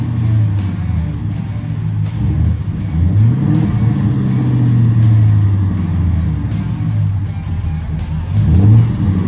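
A 1978 Ford F150 4x4 truck revs hard as it crawls out of deep sand in four-wheel drive, a loud close engine note rising and falling in several surges with a final push near the end.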